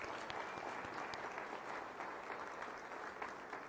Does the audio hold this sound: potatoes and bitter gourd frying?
no